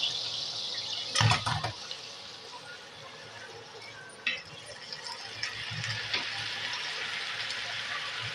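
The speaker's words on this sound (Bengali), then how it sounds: "এবার এই কড়াইয়ের মধ্যে আমি অল্প একটু জল দেব" A little water is poured into a wok for tomato sauce, a brief splash and trickle near the start, followed by faint watery movement and small clinks under a quiet background.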